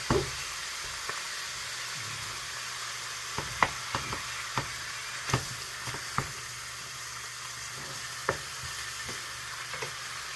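Ground meat for shepherd's pie sizzles steadily in a pan, a constant crackling hiss broken by sharp pops and scattered clicks of a utensil breaking it apart.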